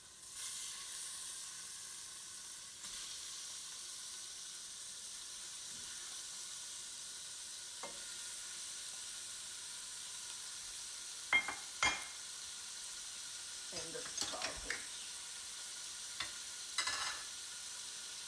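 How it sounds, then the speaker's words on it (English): Ground beef and sausage browning in a pan give a steady sizzle throughout, with occasional sharper scrapes and clatters of stirring toward the end; no one speaks. "we can start actually put the ground beef and the sausage, because we have to brown that"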